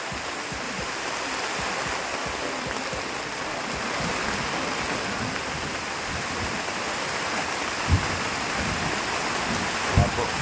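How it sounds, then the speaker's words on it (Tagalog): Heavy rain pours down steadily in a dense, unbroken hiss, with a couple of brief thumps near the end. "Malakas na naman po yung ulan."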